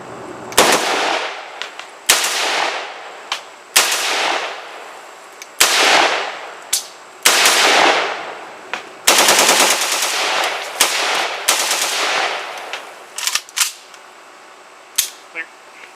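Rifle fitted with a Holosun red dot sight firing a slow series of loud, sharp shots, each crack followed by a decaying echo, about a dozen rounds at irregular intervals with a brief faster burst near the middle.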